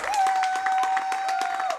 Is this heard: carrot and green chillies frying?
no